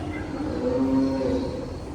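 A champion cow on a cattle ranch lets out one long, low moo lasting about a second, close and clear over a steady background hum.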